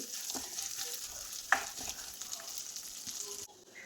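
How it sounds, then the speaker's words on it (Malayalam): Half a cup of pre-roasted vermicelli warms in ghee, giving a soft, steady sizzle with light stirring scrapes and one sharp utensil clink midway; no voices. "ആ നെയ്യിലേക്ക് തന്നെ 1/2 കപ്പ് സേമിയാണ്. ഇത് വറുത്ത സേമിയാണ്, എന്നാലും ഒന്ന് ചൂടാക്കി എടുക്കണം."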